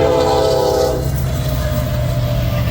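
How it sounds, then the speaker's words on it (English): An eastbound double-stack Union Pacific freight train rolls past close by in the Midwest. Its horn sounds loudly for the first second, then the heavy rumble of the passing cars continues. "Again, eastbound stacker"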